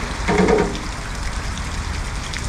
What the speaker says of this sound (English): Oh God, lovely, beautiful, late summer rain.